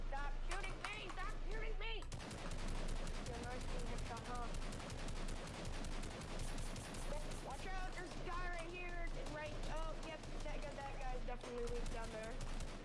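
Rapid bursts of automatic gunfire and shots from a Fortnite match, continuous and dense across the whole stretch, mixed with game effects while a player talks over it.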